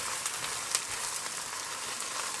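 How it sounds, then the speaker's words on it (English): Steady, dense crackling and hissing of stir-fry vegetables frying in a pan with tofu, continuous throughout with a few brief louder pops. "I'm just going to add these into the pan and let them sizzle up for a minute or two."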